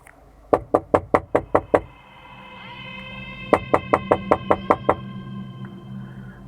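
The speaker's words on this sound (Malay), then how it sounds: "Bunyi ketukan pintu tanpa henti, tanpa bunyi salam." Someone knocks on a door without pause: a fast burst of about seven sharp raps, a short break, then another run of about eight, loud and close over a low steady hum.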